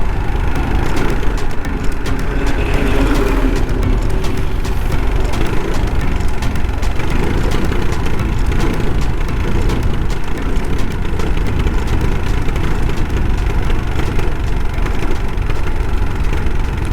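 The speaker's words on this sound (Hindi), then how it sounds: "देखिए पूरा एक्सीलेटर दबा के रखा हूँ, एक एक बार करके ले रहा है, अचानक से ले रहा है।" A car engine running on petrol with the accelerator held fully down produces a loud, continuous rumbling drone that surges and falters unevenly, close to the microphone.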